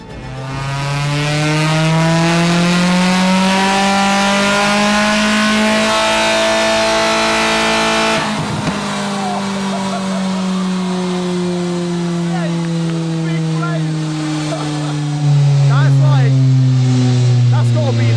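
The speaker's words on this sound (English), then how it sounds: "now the Fusion's on the dyno and we're all ready to go, we could do the first power run." A Ford Fusion ST engine revs on a dyno during a power run, a loud steady drone climbing in pitch, dipping briefly at a gear change, then rising again, close and continuous throughout.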